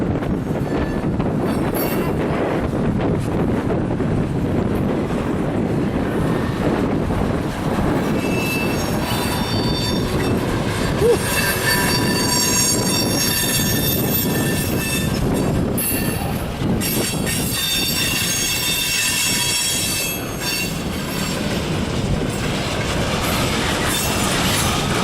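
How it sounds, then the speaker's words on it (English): A train rolls steadily past through snow at Fostoria, with continuous loud rumble, wheel squeal and clatter of railcars filling the scene close by, no voices. "to see trains running through the snow"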